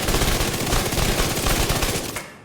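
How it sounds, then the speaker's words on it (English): A submachine gun in The Division 2 fires a rapid, sustained burst of closely spaced shots, loud and continuous before cutting off abruptly at the end. "I can show you what kind of craziness this SMG will give you"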